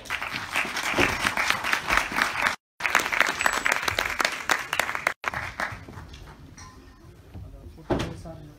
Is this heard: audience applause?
yes